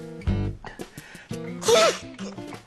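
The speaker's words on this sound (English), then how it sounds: "I sneezed about 7 times" Amid some voiced, tonal sounds, a single sharp sneeze bursts out loudly near the middle, close to the listener.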